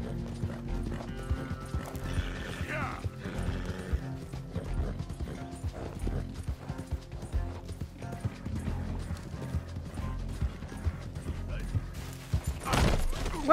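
Horse hooves clip-clopping in Red Dead Redemption II, a steady galloping rhythm with mechanical gear-like clatter and a neigh, heard fairly close under game ambience while people talk.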